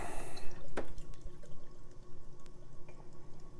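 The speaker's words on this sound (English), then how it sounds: "let's go ahead and give this a pour" Hops in a Can by Revision Brew is poured from the can into a glass. A fizzing, splashing pour opens the clip, followed by light drips and soft fizz, close and with no talking.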